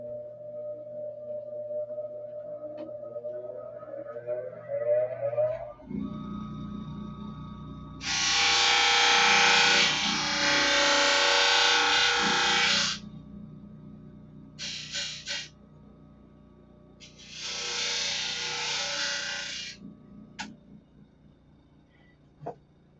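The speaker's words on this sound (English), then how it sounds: "Let me spin the sander up here." Power sander working a wood block in a workshop, running in two long loud bursts with a shorter one between and quieter pauses, over a low mechanical hum after spin-up.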